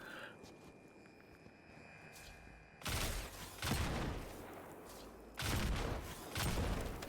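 Trip mines are shot out in Destiny 2's Vesper's Host dungeon: three or four sharp gunshot bursts with ringing blasts stand out over a quiet ambient hum, spaced a second or two apart.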